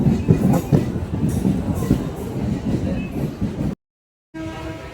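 A MEMU passenger train runs on rails between Mayiladuthurai and Villupuram, heard from inside as a steady broadband rumble with rhythmic clatter. A brief gap of silence is followed by the same running noise.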